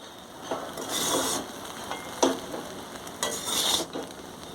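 Mixed veg and non-veg chow mein is tossed and stirred in a sizzling pan, a steady fry hiss with a few scraping, rustling bursts of stirring, close and moderately loud without speech.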